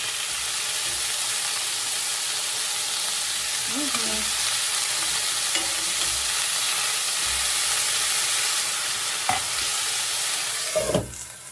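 Vegetables frying in a pan: a steady, close hiss and sizzle throughout, with a few soft scrapes of stirring and a brief clatter near the end, and no talking.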